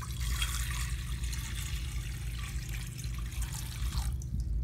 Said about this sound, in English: pour the sacred water